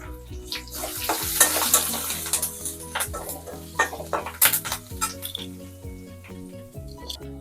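Mustard seeds, cumin, a few fenugreek seeds and asafoetida crackle and sizzle softly in hot oil for a Telugu tempering, with scattered light pops and occasional utensil clinks, faint and close.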